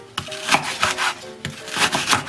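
Several sharp knife chops land on a wooden cutting board as a red chili pepper is cut, in an irregular rhythm, close and fairly loud, with no talking.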